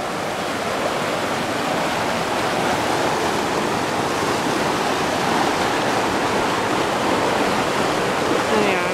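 A river at Estes Park, Colorado rushes along steadily, a continuous loud roar of fast-moving water with no break, close by and alone.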